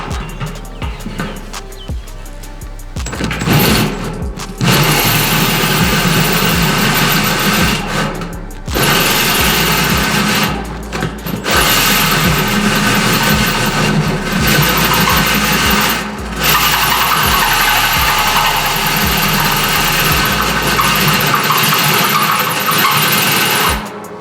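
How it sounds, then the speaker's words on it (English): A worn cordless drill with a weak battery whirs loudly and close in long sustained bursts, its motor pitch wavering, with brief stops between runs. "I'm using a drill that has seen better days"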